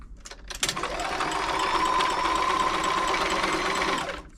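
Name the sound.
Frister & Rossmann 904 sewing machine stitching a long zigzag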